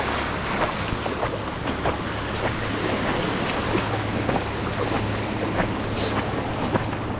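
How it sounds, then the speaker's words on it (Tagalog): Big ocean waves crash and rush around a small boat, a dense, continuous roar of surf and wind buffeting the microphone, loud and close, with no talk. "Malaking alon na eh."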